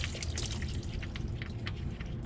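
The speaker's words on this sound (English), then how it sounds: "See you splashing a bit there." Transmission oil from a 2004 Audi CVT drains out and splashes into a catch pan, a steady close-up trickling and pouring with small drips throughout.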